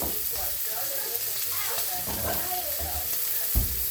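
A steak sizzles and frys in a pan in a home kitchen, giving a steady hiss with small crackles and an occasional clink throughout.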